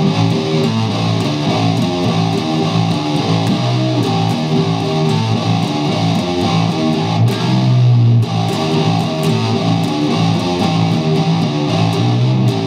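A heavily distorted electric guitar plays a slowed-down riff, with an upward string bend. Loud, sustained riffing continues evenly throughout, with a brief gap in the high crunch partway through.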